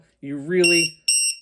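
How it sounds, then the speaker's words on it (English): A LiPo battery voltage alarm gives two short, shrill electronic beeps, the first overlapping a man's speech and the second sounding alone right after. "really should use a voltage alarm"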